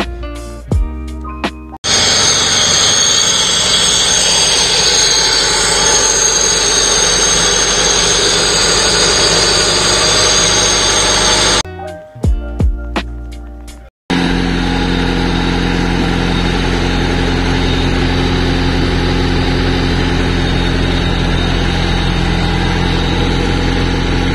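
An overhauled Honda Civic ESI engine running loudly and steadily at close range, with a few short breaks and restarts along the way.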